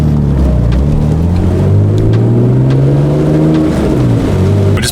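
A Toyota MK4 Supra on stretched tyres drives along a wet, potholed road, its engine droning loud and near with rising and falling pitch and a steady hiss of spray underneath.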